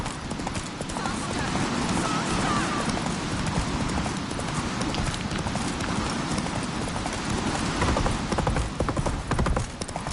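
Hoofbeats of Geralt's horse Roach galloping in The Witcher 3 video game, a steady fast clip-clop with an occasional whinny, running continuously under game ambience and spoken dialogue.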